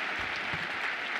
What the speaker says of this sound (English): And yes, that deserves an applause.